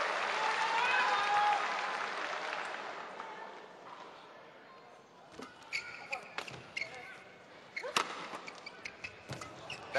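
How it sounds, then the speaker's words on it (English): The crowd at the 2014 Badminton Asia Championships mixed doubles final cheers and applauds loudly with whistles, then fades into sparse sharp shuttlecock hits and scattered claps, while commentators talk over it. "Just listen to the crowd encouraging."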